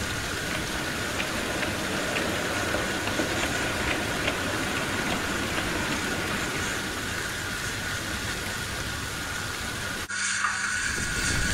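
Steam locomotive in a railway audio drama, a steady hiss and rumble that sounds rain-like, with a rhythmic chuffing texture throughout and a sudden cut near the end.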